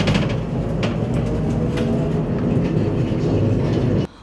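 Special rail machinery runs along tracks inside a narrow sewer tunnel, a loud, steady rumble with faint clicks that cuts off abruptly at the end.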